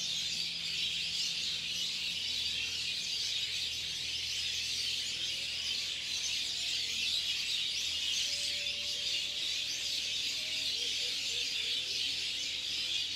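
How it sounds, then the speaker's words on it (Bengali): Birds gather at a roost at dusk and call en masse, forming a dense, continuous high chatter at a steady level that persists without pause. "ভিডিওতে হয়তো পাখি দেখা যাবে না, কিন্তু শব্দ শোনা যাবে,"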